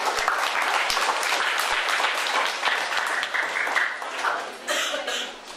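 Audience applauding at a discipline-ethics session of Politeknik TEDC Bandung, steady dense clapping throughout with a few coughs, tapering slightly near the end.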